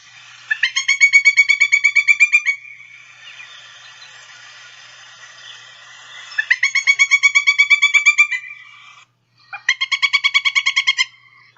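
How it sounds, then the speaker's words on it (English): Pileated woodpecker short call: loud, ringing series of rapid repeated notes, given three times in quick bursts with brief quiet gaps between them. "So here's a short call of a pileated woodpecker."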